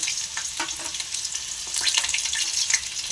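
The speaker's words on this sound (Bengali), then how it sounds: "আলুগুলো ভাজা হয়ে গেছে" Potato pieces fry in hot oil in a pan, giving a steady close sizzle with crackling bursts and faint stirring scrapes.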